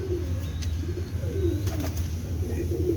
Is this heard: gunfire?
no